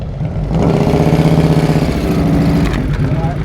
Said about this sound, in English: He can't hear his damn motorcycle.